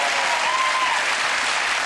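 Dense studio audience applause fills the whole stretch on a television chat show, loud and even with no breaks.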